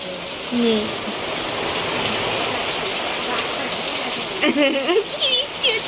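Heavy rain pours steadily during a storm with wind, a dense continuous wash of noise throughout, while voices talk and laugh over it, rising near the end.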